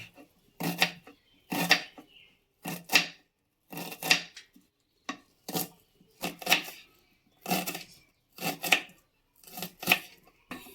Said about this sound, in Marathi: तर कांदा चिरून झाला आपला